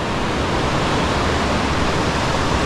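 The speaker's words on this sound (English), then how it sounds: "Look at that water. Surf is really calm today." Calm ocean surf on a San Diego beach, a steady broadband wash of gentle waves, continuous and fairly close, with no voices over it.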